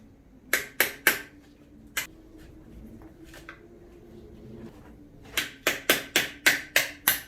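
A wood chisel is struck to pry seized friction plates free on an International TD6 crawler tractor, sharp metallic hammer blows in quick bursts, a pair, then single hits, then a rapid run of six or seven.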